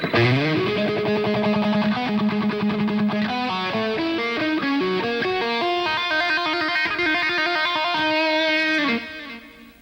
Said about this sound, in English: He sort of string skips and pulls off to open strings.